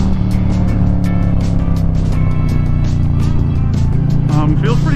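A 2022 Harley-Davidson Low Rider S motorcycle runs loud and close, its deep harmonic engine drone holding steady throughout, with wind noise mixed in.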